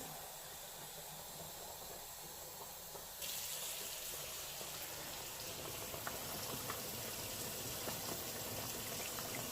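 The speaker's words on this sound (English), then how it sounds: "So I'm going to add 3 cups of water to my black-eyed peas" Water pours into a pot of black-eyed peas in a home kitchen, a steady hissing splash that grows louder and brighter partway through and runs on continuously with no talk.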